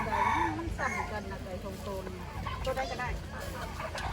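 Turkeys gobble and cluck at a Lao market, a string of close, loud fowl calls mixed with crowd noise and talk.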